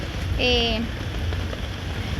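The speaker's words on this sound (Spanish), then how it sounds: "Miren, pues los comerciantes ahí trabajando debajo de la lluvia" Rain falls steadily on a market street in Santa María Joyabaj, Quiché, as evening comes on, giving a constant wash of hiss with a brief tonal call near the start.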